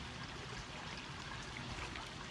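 Filtered pond water pours steadily into a container with a soft, continuous trickling stream, close and fairly quiet, with no talk.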